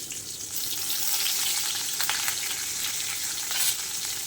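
Curry leaves sizzle and crackle in hot coconut oil, a steady, close frying hiss with sharper pops, heard alone without any talk.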